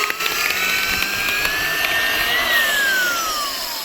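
A drill driving a cone log-splitter bit into soft aspen wood, a loud continuous whine with a slowly rising then falling pitch and grinding texture, close and steady for about four seconds with no talk.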